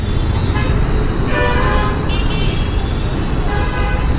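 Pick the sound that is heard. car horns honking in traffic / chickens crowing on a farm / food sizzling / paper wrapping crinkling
car horns honking in traffic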